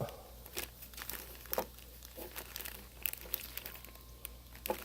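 Packaging crinkles and rustles while a Wolfram W-3000.1 car amplifier is unboxed, with soft, irregular crackles and scrunches close by in a quiet room.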